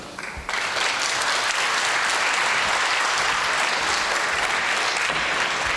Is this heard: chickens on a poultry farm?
no